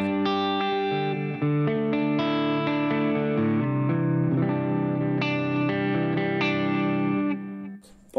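An electric guitar played through a Zoom MS-50G multi-effects pedal with delay, compressor and reverb: sustained chords and melodic notes ring out with smooth echoing tails, steady and fairly loud, ending in a brief burst of noise.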